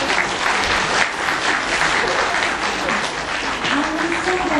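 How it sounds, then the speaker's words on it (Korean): A hall full of people applauds award winners at a literary prize ceremony for sijo poetry, a loud sustained roar of clapping with faint voices underneath and a rising tone near the end. "오늘 수상하신 모든 분들께 다시 한번 큰 박수 쳐주시기 바랍니다"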